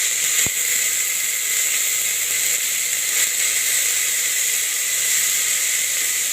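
Oil sizzling steadily in a pan, a continuous bright hiss that runs unbroken and fairly loud, with no voices over it, while a ghee tomato rice dish cooks.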